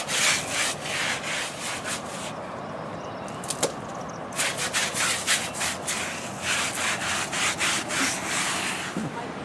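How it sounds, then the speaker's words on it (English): Scrubbing the yarn fringe of a rug on a hard floor: bursts of brisk, close rubbing strokes in quick rhythmic runs, pausing briefly in the middle before resuming steadily. "You definitely want to scrub the fringe."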